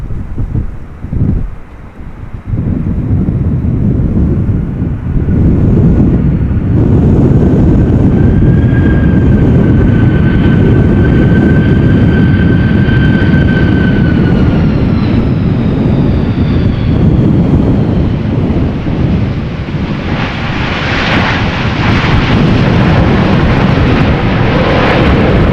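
An airliner arriving from Bonaire at Schiphol in stormy wind makes a sustained roaring rumble, with a faint engine whine rising over heavy wind buffeting.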